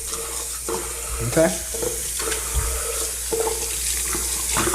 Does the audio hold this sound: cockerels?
no